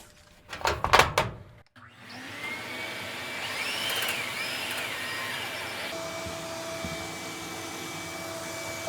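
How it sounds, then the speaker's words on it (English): A short burst of noise and a click, then a vacuum cleaner starts, used to clean a dryer vent with a rotary brush, and runs with a steady, droning whine that holds to the end. "let's go ahead and turn the vacuum on."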